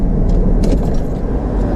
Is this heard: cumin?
no